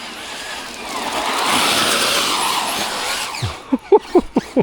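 A Traxxas Rustler 4x4 RC car rushes and skids across very wet grass under braking, a loud broadband rush fading into a few short, sharp squeals at the end.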